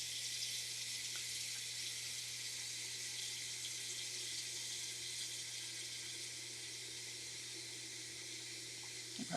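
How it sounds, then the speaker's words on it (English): Tap water pouring steadily into a water bath canner, a continuous even hiss and splash of filling water at moderate level throughout. "So I'm going to fill it up with water."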